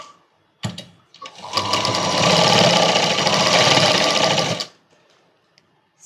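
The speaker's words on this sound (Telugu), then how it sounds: "పెట్టి ఈ భుజాల దగ్గర కుట్లు అనేది వేసుకుంటున్నా." After a few sharp clicks, a sewing machine sews the shoulder seams of a child's night dress in one loud, steady burst of about three seconds, then stops into near silence.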